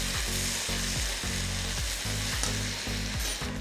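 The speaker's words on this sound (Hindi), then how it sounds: "प्याज को अब हम फ्राई करके हल्का ब्राउन करेंगे" Onion and ginger paste frying in a pan, a loud steady sizzle with a regular scraping rhythm from stirring, close and continuous with no talking.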